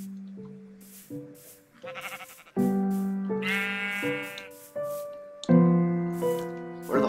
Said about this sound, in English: Oh, hello, Mr. Sheep.